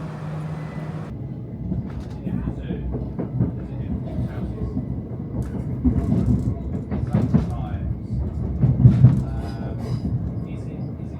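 A Southeastern passenger train bound for Ramsgate in Kent rumbles along from inside the carriage, a steady low drone with faint clicks and bumps while a voice talks over it.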